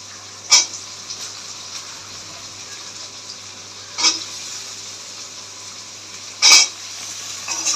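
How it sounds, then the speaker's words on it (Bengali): Bombay duck fish and potatoes fry together in a pan, making a steady soft sizzle. A few sharp clinks of a spatula against the pan sound every couple of seconds. "একসাথে দুটোই সমান ভাজা হয়ে যাবে"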